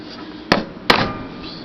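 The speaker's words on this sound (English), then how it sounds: "So with the punch and the hammer, I'm gonna punch these" A hammer drives a metal punch into knife steel, giving two sharp, ringing metallic strikes about 0.4 seconds apart, loud and close with a brief ring after each, with nobody speaking.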